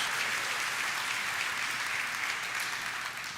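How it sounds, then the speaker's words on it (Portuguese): A church congregation claps in praise, a dense, even burst of applause from many hands filling the room, steady for a few seconds before easing slightly at the end. "Dá uma salva de palmas ao Senhor"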